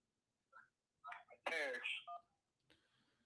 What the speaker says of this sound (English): let's go ahead and jump back to the phone lines. We got a call here from Anderson.